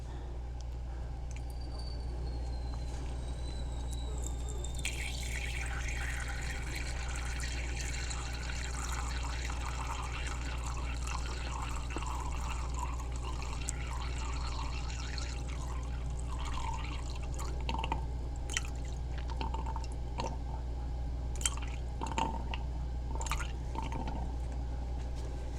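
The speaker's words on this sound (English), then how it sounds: "So I'm going to first weigh my distilled water." Distilled water for an aloe vera face and body lotion is poured into a container on a kitchen scale, a steady trickle over a constant low hum, followed by scattered drips and small splashes.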